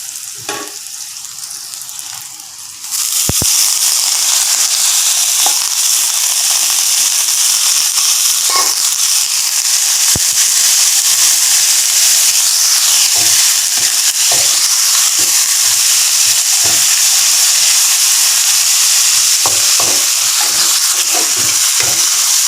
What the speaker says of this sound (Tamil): இப்போ நான் அவத்திக்கீரை போடுறேன்.